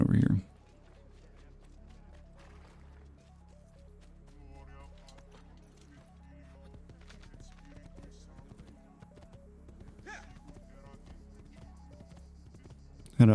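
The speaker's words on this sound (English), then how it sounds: "Is there a horse here that I can take?" A horse in the video game Assassin's Creed 2 clops along at a steady, even rhythm of hoofbeats, moderately close, with faint game ambience and background voices beneath it.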